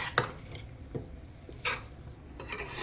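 Cooked rice being stirred into greens in a pan while making mixed greens pulao: a few soft scraping and clinking strokes of a spoon against the pan, spaced irregularly, fairly quiet with no talking.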